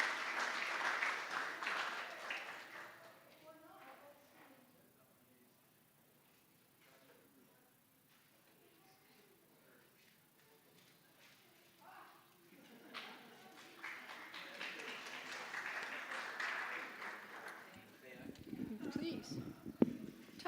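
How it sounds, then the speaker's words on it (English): An audience at a celebration-of-life memorial gathering claps for a woman about to recite a poem. Warm applause opens, falls away under quiet murmurs and a few words, then swells again before speech resumes. "Give her a round of applause."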